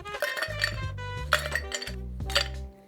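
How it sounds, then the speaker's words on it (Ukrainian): Ice cubes clinking into a cocktail mixing glass while a Sazerac is built with cognac, sugar and bitters, a series of bright glassy clinks and clatters close up, with a low background hum and no talk. "Тепер додаємо до нашого змішувального стакану лід."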